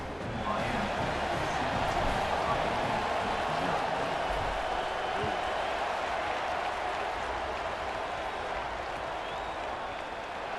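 A crowd applauds and cheers in a College Football 27 game after an extra point, a dense and continuous roar that holds at an even loudness, with some talk mixed in.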